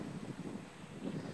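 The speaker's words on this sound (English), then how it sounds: "And right now, it's windy." Wind gusts across an outdoor campsite on the coast of Mexico, a low buffeting rumble against the microphone that swells and fades in short waves, with no voices.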